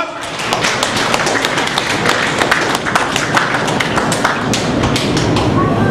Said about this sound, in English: Let us give a clap offering unto the Lord.